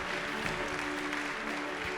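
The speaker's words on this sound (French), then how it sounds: "Je crois qu'il faut vraiment l'applaudir," Audience applause at an agricultural association's ceremony in the Haute-Lande, a steady dense wash of clapping filling the whole stretch with no voices.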